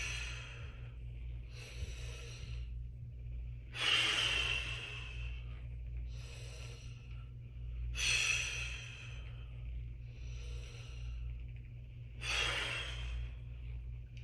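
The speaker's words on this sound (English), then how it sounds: "Do you notice how I'm really extending that exhale, making it full" Slow, quiet breathing repeats three times, each cycle ending in a long, breathy, sigh-like exhale, heard close up with a low steady hum underneath.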